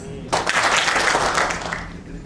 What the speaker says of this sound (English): Can we clap once?